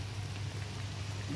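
Fried lailotika fish is added to a hot pan for a korma with potatoes and pointed gourd, and a steady close sizzle hisses evenly throughout with no talk.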